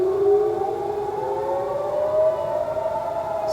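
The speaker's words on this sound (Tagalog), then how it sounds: "Yan ay sirena sa Israel." An air raid siren in Israel wails steadily and loudly on its own, its tone gliding slowly upward through the whole stretch with no voices over it.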